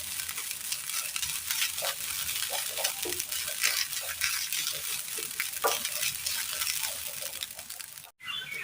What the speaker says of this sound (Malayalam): അടുപ്പത്ത് പാൻ വെച്ച് കൊടുത്തതിന് ശേഷം ഇതിലേക്ക് നമുക്ക് തേങ്ങ ഇട്ട് കൊടുക്കാം.